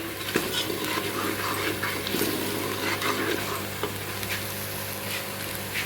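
Tomatoes sizzle as they go into frying chicken korma. The pan gives a steady moderate crackle with a few sharper pops and stirring scrapes, and no one talks over it.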